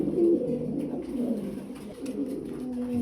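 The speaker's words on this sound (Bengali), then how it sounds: "ডিমের জন্য পুরাটাই প্রস্তুত আছে কবুতর" Pigeons coo softly and repeatedly close by, low rolling calls overlapping in a steady murmur on a farm, with no talking over them.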